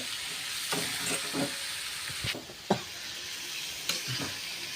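Chicken frying in a pan and being stirred, a steady close sizzle broken by several scraping stir strokes and a couple of sharper knocks, with no talk.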